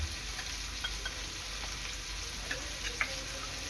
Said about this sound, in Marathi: आलं लसूणची पेस्ट चांगली मिक्स करून घ्यायची आहे